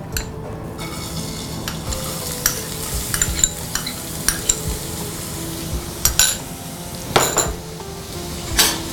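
Onions frying in hot oil in a pan, a continuous sizzle punctuated by sharp metal spatula scrapes and clinks against the cookware, close and fairly loud, with no speech.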